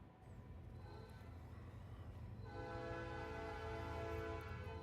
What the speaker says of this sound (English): Pardon you for the train.